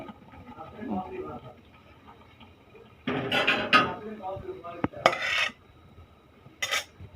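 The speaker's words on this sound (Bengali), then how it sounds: "নুডলসটাকে ছেঁকে নিতেছি নুডলস সিদ্ধ হয়ে গেছে" Boiled noodles being strained from a pot, with bursts of metallic clatter and scraping in several short clusters while a person talks nearby.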